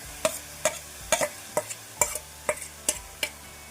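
Washed, dried golma shrimp get stirred in a hot pan, giving a steady run of sharp spatula scrapes and clacks, about two per second, over a light sizzle, close and clear.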